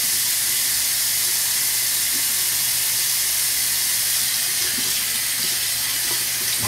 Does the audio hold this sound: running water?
yes